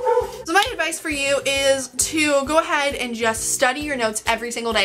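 A dog barks and yips in the background while someone talks continuously over it, the short barks recurring throughout under her voice.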